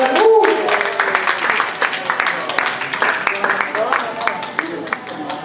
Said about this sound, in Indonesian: Berikan tepuk tangan teman-teman